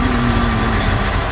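An old engine idles steadily, a continuous low hum with a constant tone running close and fairly loud throughout, no talk over it.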